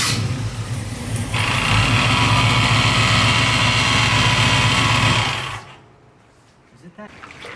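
A Buick Regal engine cranks and fires, revving into a loud steady run for several seconds before dropping abruptly to a quieter idle.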